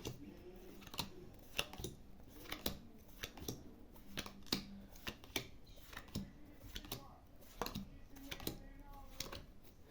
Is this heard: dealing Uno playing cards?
yes